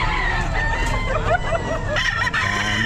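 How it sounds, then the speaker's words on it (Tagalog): Chickens and roosters at a rain-soaked outdoor pet market stall, crowing and clucking loudly and continuously from close by, several birds overlapping with no pause. "Daming manok."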